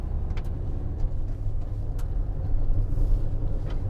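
A 2019 Citroen Relay 2.2 BlueHDi 35 Enterprise L2 H2 van with manual gearbox being driven, heard as a steady loud low road and engine rumble with light rattles and no voices.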